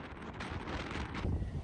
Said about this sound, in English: It is super windy up here.